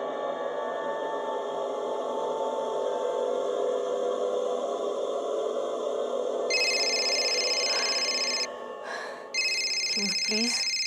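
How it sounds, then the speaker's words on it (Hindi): A repeating electronic phone ringtone starts partway through and plays in bright, steady bursts, with a short break, over a background hum in a tense night-time scene in a national park, with a person's breath or voice at the end. "Please change your stupid ringtone."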